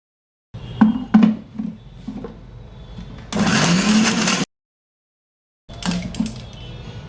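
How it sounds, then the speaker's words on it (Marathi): A kitchen mixer grinder whirs loudly for about a second, grinding onion and coconut into paste, set between clinks and handling noises of the jar, then starts again briefly after a pause. "ह्याच भांड्यात मी हे कांदा, खोबरं बारीक करून घेते, पेस्ट करून घेते"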